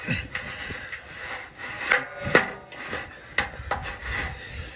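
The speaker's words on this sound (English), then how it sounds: "I'm just going to use the tailpipe cutter from Harbor Freight." A hand tailpipe cutter works through the exhaust pipe of a 2024 fourth-generation Toyota Tacoma, giving repeated grinding, rasping scrapes with sharper metallic clicks, steady and close with no talking.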